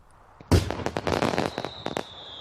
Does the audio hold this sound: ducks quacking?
no